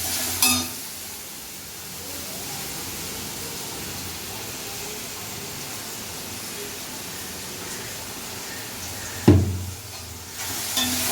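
Ingredients for a chicken gravy sauté in a pan, giving a soft, steady hiss of frying interrupted by a couple of sharp clanks of a utensil against the pan.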